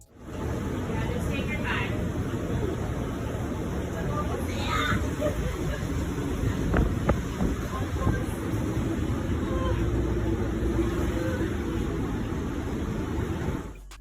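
City bus pushing through deep floodwater on a New York street, a continuous loud rumble and sloshing wash of water filling the whole stretch, with a babble of passengers' voices mixed underneath.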